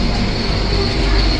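Sealdah Duronto Express train running, a loud, steady broadband rumble of rolling carriages with dense low-end roar and continuous rail noise throughout.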